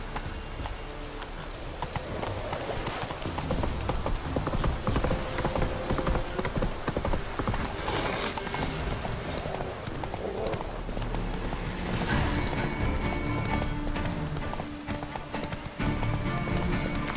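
Hooves gallop in the video game The Witcher 3: Wild Hunt, a fast, continuous, loud drumming of horse steps with ambient game noise underneath.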